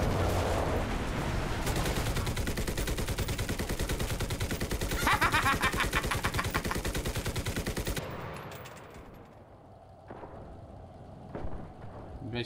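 Machine gun fire in the World War II shooter Enlisted, set in the battle for Berlin, rattles in a long, loud, rapid continuous burst before cutting off, leaving quieter scattered distant shots and rumbles.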